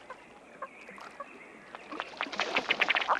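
A ruddy duck drake gives its courtship display call in a marsh, a rapid series of short burping, hiccup-like pops that builds in loudness toward the end, with faint other birds in the background.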